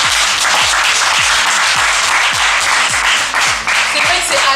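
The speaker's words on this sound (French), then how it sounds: "Est-ce qu'on peut l'applaudir?" Audience applause greets the founder of Femmes Générationnelles at an entrepreneurship bootcamp, a dense and steady wash of clapping that fills the whole stretch at a loud, even level.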